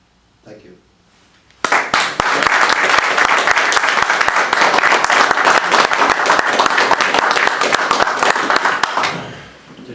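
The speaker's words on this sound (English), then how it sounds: "Did everyone clap?" Audience at a canary breeders' talk bursting into loud, sustained clapping after a few quiet seconds with a brief voice, holding steady for about seven seconds before fading.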